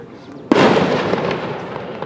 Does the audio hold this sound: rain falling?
no